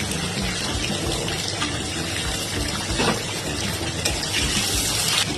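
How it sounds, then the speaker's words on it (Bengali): Potatoes frying in hot oil give a loud, dense, continuous sizzle and hiss that stays even throughout, with no voices. "এবার এই তেলের মধ্যে দিয়ে দিচ্ছি আমি আলুগুলো।"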